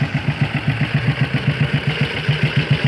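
A 1954 BSA motorcycle engine runs at a steady idle, a close, loud, even pulsing thump with no voices over it.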